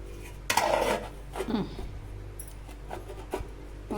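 A steel plate set down as a lid over a pot of drumstick sambar gives a sharp metallic clatter, followed by a few lighter clinks and scrapes in a quiet kitchen.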